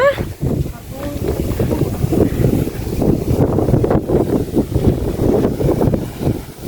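Gusty outdoor wind at a house buffets the microphone in a continuous low rumble, with murmured voices mixed in.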